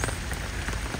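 Steady rain patters densely on a surface, a continuous wash of drops with no other sounds.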